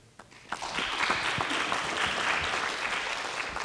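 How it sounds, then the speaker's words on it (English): Audience at a county candidates' political forum in Humphreys County, Tennessee applauding the candidates, a few scattered claps quickly building into a steady, full round of applause that continues to the end. "we want to give you a round of applause for being here today"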